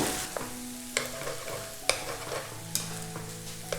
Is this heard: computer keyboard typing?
no